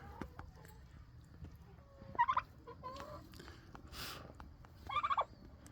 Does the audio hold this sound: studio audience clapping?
no